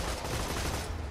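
Rapid automatic gunfire from a corrosive weapon in Borderlands 2 rattles in a dense, continuous burst of shots for about a second.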